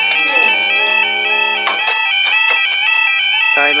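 Double alarm at the Spondon Station level crossing in Derbyshire with a fast barrier: loud, continuous two-tone electronic warning tones ringing steadily throughout, with brief clanks and bumps of the barrier mechanism partway through.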